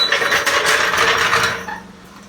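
A hand ratchet loosens the top strut tower nuts on a Polaris Ace side-by-side during a lift install, a quick burst of close, loud clicking that fades out after a second and a half.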